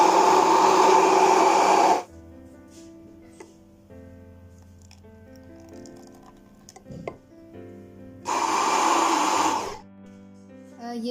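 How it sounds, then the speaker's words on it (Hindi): An electric blender whirs loudly while blending homemade olive oil mayonnaise with lemon juice, running steadily for two seconds, then stopping to a quiet pause with faint kitchen clatter, before a second loud burst starts up. "लेकिन आपके पास ब्लेंडर है तो इस तरह आप ब्लेंड करेंगे"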